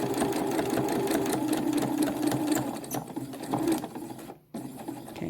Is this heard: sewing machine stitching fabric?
yes